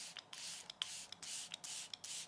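A vegan collagen serum spray is misted onto a face in quick, faint pump bursts, several short soft hisses in a row heard up close.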